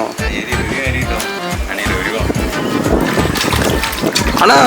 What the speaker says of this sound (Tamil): காற்று அடிக்குதுல்ல.